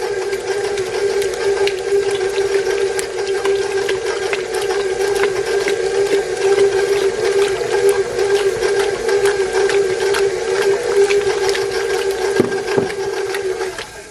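Stand mixer with a paddle running on low through bread dough as milk mixture is added, a steady whirring motor hum with a faint rhythmic clatter throughout, close and continuous.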